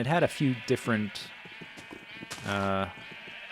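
Minecraft sheep in a pen bleat in several wavering, quivering calls, loud and close, interleaved with a person talking over them.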